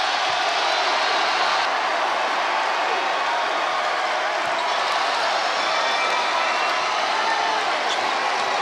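A packed arena crowd at a 2018 Belmont versus Murray State OVC basketball championship game roars in a steady, dense wall of cheering and noise that holds loud and continuous throughout.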